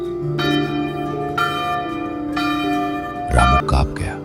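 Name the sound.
village temple bell ringing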